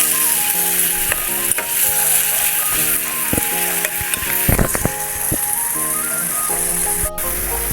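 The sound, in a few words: onion, garlic and ginger paste frying in a pan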